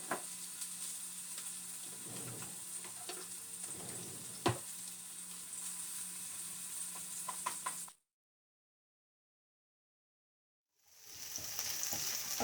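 Onions frying in a pan while wild greens are cooked, a steady broadband sizzle with a few sharp crackles and pops, running continuously, then cutting to silence before the sizzling returns strongly near the end.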